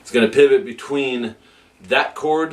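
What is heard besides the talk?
No everyday noises stand out.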